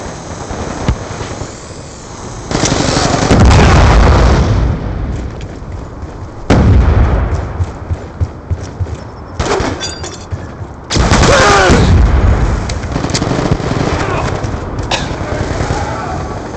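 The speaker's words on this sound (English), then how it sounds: "Friendly Hellstorm missile inbound." Hellstorm missile strikes in the video game Black Ops II: heavy, loud booming explosions land in several bursts, each a few seconds long, over a continuous noisy bed of gunfire and crackling battle sounds.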